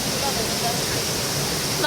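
Strong rushing water at Tipakan Falls in Cavinti, Laguna, a dense steady roar of falling water with no break, loud and close throughout.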